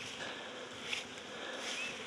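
Honeybees buzzing steadily around a hive in Fairplay, Maryland, on a February day, a continuous soft, close drone with no talking.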